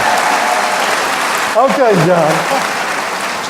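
Applause from a school faculty meeting crowd for the superintendent, a broad steady wash of clapping with someone speaking briefly over it.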